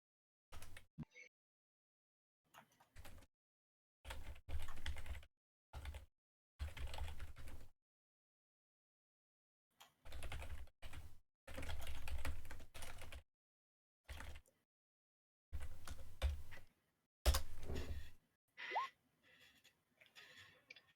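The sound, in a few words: typing on a computer keyboard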